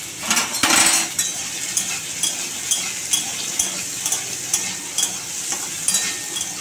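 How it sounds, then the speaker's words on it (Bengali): Potato pieces frying in oil tempered with dry red chilli and nigella seeds, a loud crackling sizzle with repeated scraping and clinking of a spatula against the pan. "আর এই যে আলু দিয়ে একটু ভাজবো, শুকনো লঙ্কা আর কালো জিরে ফোড়ন দিয়েছি, দিয়ে আমি আলুটা দিচ্ছি।"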